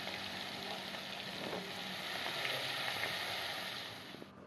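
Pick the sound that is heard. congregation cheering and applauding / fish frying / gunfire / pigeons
fish frying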